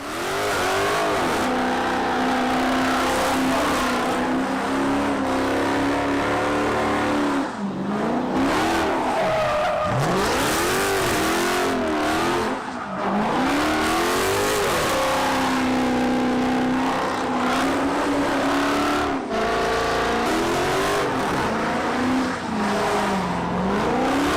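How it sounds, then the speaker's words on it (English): A loud gold Dodge Charger does non-stop burnouts and donuts in a lot, its engine revving hard and rising and falling continuously with screeching tires throughout, close and alone. "a loud gold Dodge Charger filming a music video with non-stop burnouts and donuts"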